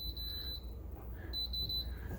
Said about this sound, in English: Also, the beep is quieter.